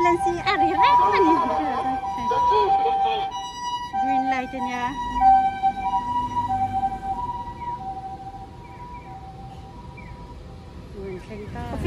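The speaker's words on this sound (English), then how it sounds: "So that's an ambulance, a local." Ambulance siren on a street in Nagasaki's Shinchi Chinatown, a steady wailing tone over busy traffic noise, fairly close and slowly fading, with someone talking over it.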